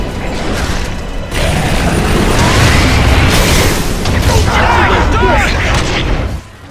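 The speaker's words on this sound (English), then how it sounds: "There are also tickers which explode once they get near you" Explosions and gunfire in the Xbox 360 shooter Gears of War 2, including exploding ticker enemies, form a dense, loud, continuous barrage of booms and mechanical clatter lasting several seconds before cutting off.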